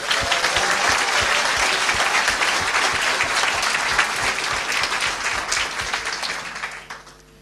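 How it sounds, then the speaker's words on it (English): Sustained, dense applause from a large audience at a business talk with Unilever CEO Paul Polman, steady and loud for about six seconds before fading out, with no speech over it. "deserves a big round of applause"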